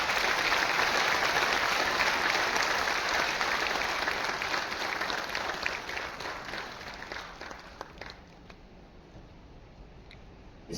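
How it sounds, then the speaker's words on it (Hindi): Audience applause in a large hall at a government event, steady dense clapping that gradually thins and fades out toward the end, with no speech over it. "जोरदार तालियां हो जाए।"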